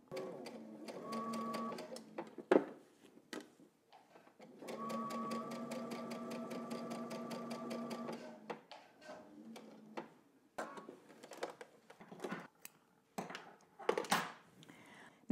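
Sewing machine running a dressmaking project's two rows of gathering stitches, heard as two long steady whirring runs with short stop-start bursts and clicks between them.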